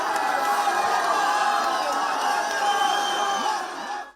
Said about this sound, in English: the electric crowd made sure the energy never dipped